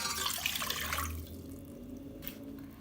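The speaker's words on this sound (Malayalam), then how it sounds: "അപ്പോൾ നമുക്ക് ഇതുപോലൊരു പാത്രം എടുത്തിട്ട് 1 ലിറ്റർ വെള്ളം അതിലേക്ക് ഒഴിക്കാം" Water pouring into a cooking vessel while making chilly chicken marinade, a broad splashing rush for about a second that then drops to a quieter trickle and settles, close by with no talk.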